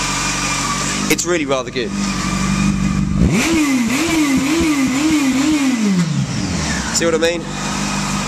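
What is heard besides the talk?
motorcycle engine idling and revving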